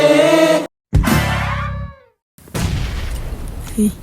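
Explosion in the mobile battle-royale shooter PUBG Mobile, a loud burst with a booming low rumble that cuts off abruptly, followed by more game noise and a short silent gap, with no speech over it.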